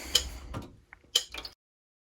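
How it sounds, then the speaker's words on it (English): Two sharp ticking clicks from a darkroom timer used during black-and-white print developing, close and distinct with short rustling handling sounds between them, then silence. "I've got the timer ready to go."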